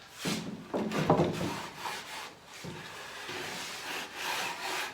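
Live edge maple slab being cut down to size, with a rough, rasping sawing burst at the start and another pass a little later, both close and fairly loud, followed by quieter workshop noise.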